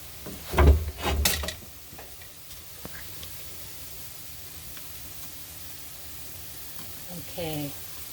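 Curry meatballs cooking in a pan, Hawaiian style, with a couple of loud thumps and clatters at the start, then a quiet, steady sizzle running underneath.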